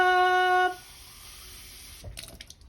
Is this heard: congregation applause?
no